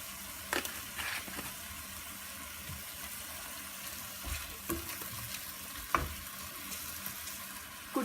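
Salt, paprika, crushed chillies and coriander fry in a pan while being stirred, a low steady sizzle with scattered scrapes and clinks of a spoon, quiet and without speech.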